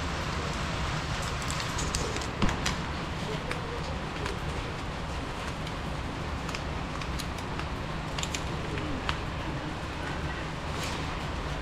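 Rain falls steadily during a typhoon at a farm, a dense, even hiss of drops on surfaces with scattered louder pattering, close and continuous, with faint voices in the background.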